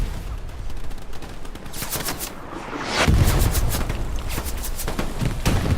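Gunfire and heavy blasts from a Hell Let Loose battlefield, with rapid, sharp bursts and a booming impact partway through, followed by steady, close crackling fire.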